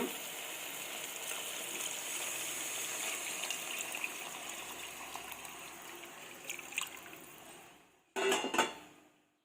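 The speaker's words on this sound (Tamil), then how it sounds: "இப்போது இந்த தண்ணி ஊற்றியாச்சு" Water is poured into a pot of boiled chana for biryani, a steady trickling gush that runs for about eight seconds before a brief louder clatter near the end, with no talk.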